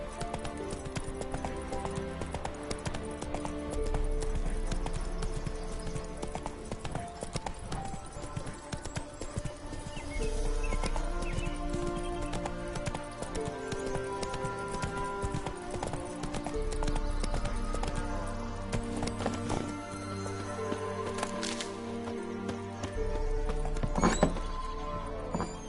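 Roach, the horse in The Witcher 3, trots with a steady rhythmic clip-clop of hooves over game music, close and clear, with a brief whinny.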